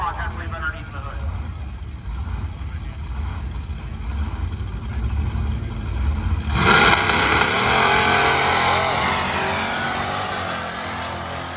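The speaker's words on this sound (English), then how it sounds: "The Disco Nova that has been around a lot of drag and drives, now backing a supercharged small block, I believe, underneath the hood" A supercharged small-block Chevrolet Nova drag car roars up loudly partway through at a drag strip, its engine noise swelling and holding strong under continuous announcer commentary.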